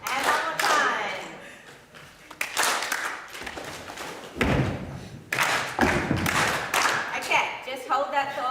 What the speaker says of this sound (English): Clap, slap, slap, stomp. Clap, stomp, clap, clap.